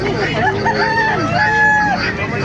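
Chickens and roosters at a crowded poultry market in Bocaue, with harmonic crowing calls rising over a dense, noisy background of clucking and chatter throughout.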